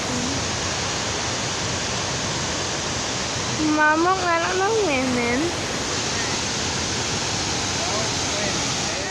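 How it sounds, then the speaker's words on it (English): Waterfall at Rock Island State Park in Tennessee gives a steady, full broadband rush that fills the whole clip, with a person speaking briefly over it midway. "This is the waterfall, so that's three waterfalls in a row."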